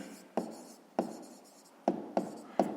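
Pen strokes on paper jotting down numbers for a fifth-grade maths exercise, five separate short scratchy bursts spaced unevenly, close and quiet, with no talking.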